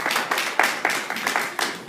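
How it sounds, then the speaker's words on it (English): Audience applause for a poet at an open mic poetry night at Virginia Union University, a steady close patter of many hands clapping with brief louder bursts, no talking. "let's give another round of applause for Ron Kipling Williams."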